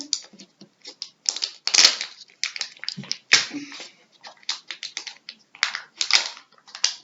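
A Kinder Joy egg and its toy wrapper are torn open. Close, crinkly plastic rustling and crackling come in irregular bursts, with short pauses between them.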